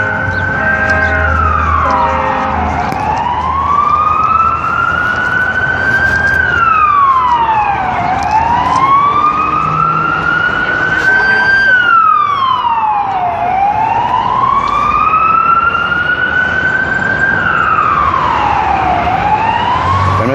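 A fire engine siren wails steadily as it passes along a Brooklyn street near Fulton Street, its loud, repeating rise-and-fall cycles sweeping over a continuous rumble of city traffic.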